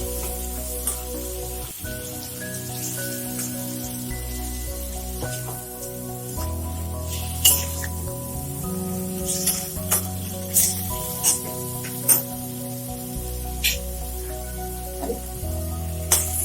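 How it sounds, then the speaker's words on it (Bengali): Paneer cubes with chilli and turmeric powder frying in a kadai, a soft steady sizzle of oil under background music, with a few light clinks of a spatula turning the pieces. "হালকা সামান্য একটু ভেজে নেব"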